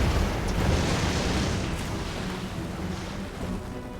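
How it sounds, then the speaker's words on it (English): Explosions from a Vindicator bombing run in Red Alert 3 rumble as a low, sustained roar of blasts that slowly fade, with no talking. "Now the Vindicator can come in for a bombing run."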